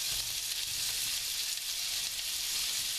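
Onions and carrots fry in a pan as the base for a demi-glace, a steady, close hiss of sizzling oil that continues evenly throughout with no talking.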